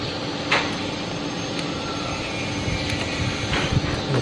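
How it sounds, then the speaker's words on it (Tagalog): A Honda Click 125i or Yamaha Mio Soul i 125 scooter engine idles, its exhaust giving a steady, fairly loud hum and whir without gaps. "Now let's try the sound of the exhaust."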